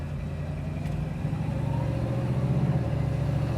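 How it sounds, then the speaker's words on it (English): A 1968 Ford Mustang engine runs steadily with a low, continuous mid-range drone while being driven through a few gears, the tone swelling slightly toward the end, with no talking over it. "We're idling nicely. You can see my foot's not on the throttle. Temp's halfway. Running through a few gears here."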